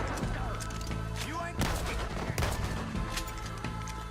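Gunfire in the video game Red Dead Redemption 2, a run of sharp shots and bursts over a constant game soundscape, with a heavier cluster midway and talk mixed in.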